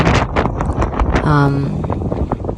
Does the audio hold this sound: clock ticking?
no